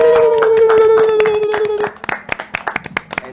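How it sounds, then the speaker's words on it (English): Audience applause closing a segment of a live show, a scattered, irregular patter of claps rising in the second half after a sustained tone fades out. "Let's give them a round of applause"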